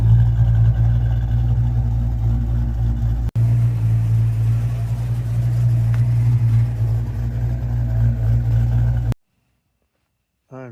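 A freshly painted Ford Mustang project car, body work done by its teenage owner, idles with a steady low, even rumble close by. It holds constant, then cuts off abruptly near the end.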